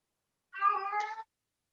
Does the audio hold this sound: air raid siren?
no